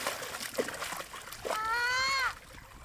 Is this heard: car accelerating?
no